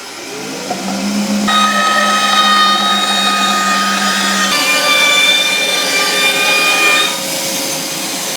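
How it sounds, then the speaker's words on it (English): A bandsaw rips through rough sawn timber with a loud, sustained whine; the blade's pitch shifts as the wood feeds through and eases near the end of the cut, with no speech. "bandsaw set up, and I'm going to feed it through"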